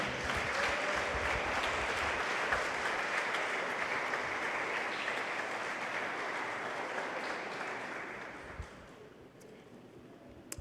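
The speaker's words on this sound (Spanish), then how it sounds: "¿Cuántos aplauden al Señor?" Dense, sustained applause from a church congregation fills the space, holding steady before gradually thinning and fading toward the end.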